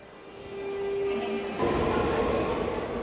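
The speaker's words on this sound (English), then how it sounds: "At a subway in Seoul." Subway train in Seoul rumbling at a station platform, with a steady hum and a high whine that give way to a louder, broader roar as the train moves, close and continuous.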